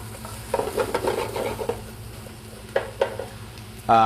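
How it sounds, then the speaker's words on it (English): Large vegetable pieces softening in a pot for a Cajun duck cassoulet give a steady close sizzle, with repeated scraping stirs and a few sharper knocks against the pot. "So basically softening this vegetable for about 3 to 5 minutes or until soft"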